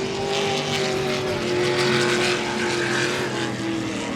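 Loud roaring engines of racing powerboats passing at the E C Griffith Cup race, a sustained high-revving drone with shifting pitch, continuous throughout with no talking.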